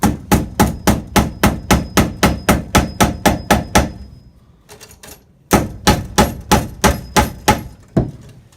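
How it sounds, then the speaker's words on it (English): Nail being hammered in during a kitchen light installation: about fifteen quick, even, ringing blows, a short pause, then another steady run of strikes, loud and close with no talking. "that's how you nail that in"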